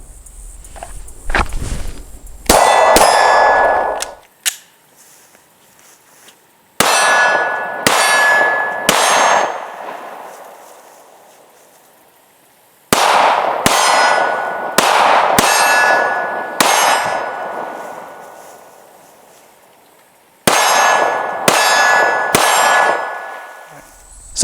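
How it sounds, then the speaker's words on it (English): Shots from an S&W M&P 2.0 Compact 9mm pistol ring off a steel target in four strings of rapid fire, each string a quick run of sharp, loud metallic clangs separated by quiet pauses. "So let's go ahead and get some more shooting in."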